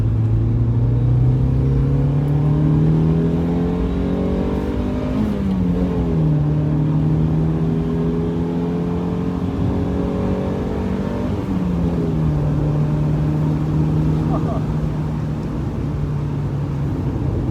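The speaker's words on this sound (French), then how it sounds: "Elle se débrouille très bien la petite MX-5 hein." A 1993 Mazda MX-5 sports car accelerates hard through the gears, its engine note climbing steadily, dropping at each shift, then rising again, loud and close.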